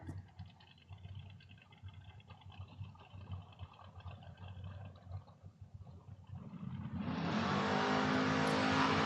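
Drag racing cars, a Mustang among them, at a spring race meet: a low engine rumble builds, then a loud roaring launch swells in the final seconds and holds steady, close and full.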